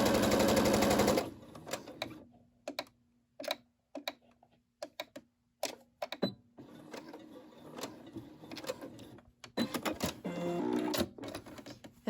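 A Brother SE600 sewing machine stitches fabric napkins in short, rapid mechanical bursts separated by pauses, with a louder continuous run at the start and another near the end.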